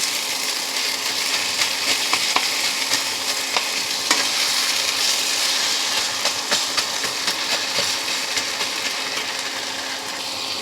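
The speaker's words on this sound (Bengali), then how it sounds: "মাছটাকে আমি মশলাটার সাথে একটু কষবো" Fried rohu fish heads being stirred and broken up in a spiced masala, a steady loud sizzle with scraping stir strokes and occasional clicks throughout.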